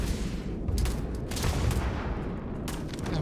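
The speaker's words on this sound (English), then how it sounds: "You like grenades?" Rapid bursts of explosions and gunfire-like blasts from grenades in the video game Starfield, loud and dense, with several sharp broadband bangs layered over continuous combat noise.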